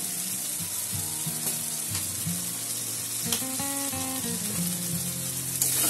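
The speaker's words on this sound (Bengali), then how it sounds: "ভালো করে মশলাটা কষিয়ে নেব" Spiced masala for chutney katla fish fries in a pan with a steady, close sizzle that runs the whole time beneath background music.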